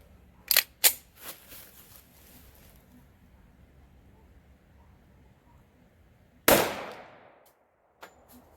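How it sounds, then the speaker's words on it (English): A .45 caliber 1911 pistol fires a single loud shot at a target 15 yards away. The sharp report rings out with a decaying tail, and fainter clicks and bangs come before and after it. "let's put one of these 45 caliber rounds down there and let's see what kind of damage it does to the same target at 15 yards"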